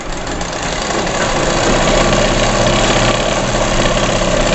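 A sewing machine runs continuously while stitching elastic onto a frock for a 7–8 year old girl, a steady close mechanical whir with a fine rapid chatter and no pauses or voices.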